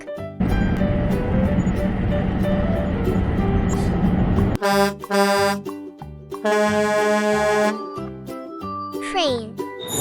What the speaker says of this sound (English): Cartoon truck.